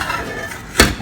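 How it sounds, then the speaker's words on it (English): A single short metallic clack as a lid is set onto a pan of simmering okra curry, close and distinct above a soft kitchen background hiss. "I'm going to cover with the lid"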